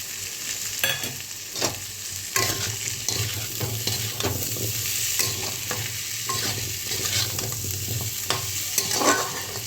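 Earth potatoes frying in a pan with salt and turmeric, continuous sizzling broken by repeated stirring scrapes of a spatula, close and steady without speech.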